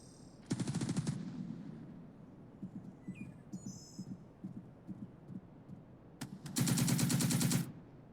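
Bursts of video game gunfire in Second Front drawn by a soldier: two long, loud rattling volleys near the start and end, with scattered softer shots and thuds in between.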